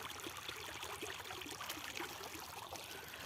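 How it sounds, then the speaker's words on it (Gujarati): Irrigation water runs steadily from a pipe line on a farm field in the early morning, a constant broadband rushing and trickling that stays even and fairly close throughout, with no talk. "આ પાણી ચાલુ હો"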